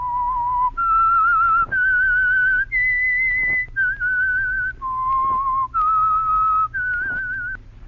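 Eight clear, sustained whistled notes form a slow, eerie rising and falling melody as the radio show's signature signal, heard alone with no voices.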